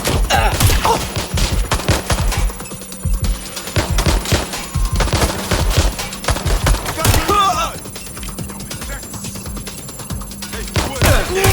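Rapid automatic gunfire rattles in Watch Dogs: Legion. Dense bursts of loud, close shots run almost continuously with brief lulls, and shouted voices come through the barrage.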